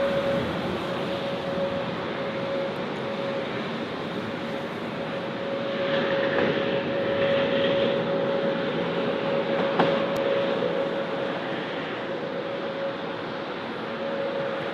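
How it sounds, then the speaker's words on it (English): An EasyJet airliner arriving at Berlin BER airport gives a steady, distant broadband jet roar with a faint constant tone, swelling slightly midway and holding without talk. "We have an EasyJet coming in."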